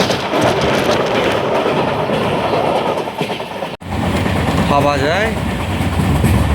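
Kamrup Express racing at about 101 km/h past Old Malda Junction gives a loud, steady roar of wheels on rail with rattling carriage noise, a brief dropout partway through, and someone talking over it.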